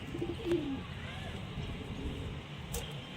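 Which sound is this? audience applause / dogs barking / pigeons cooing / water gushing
pigeons cooing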